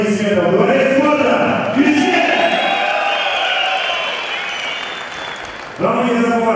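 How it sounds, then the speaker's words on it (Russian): Applause and cheering from a large audience at a combat sports bout swell underneath an announcer speaking loudly in Russian over a public address, the crowd noise steady throughout. "И они требуют лучших аплодисментов"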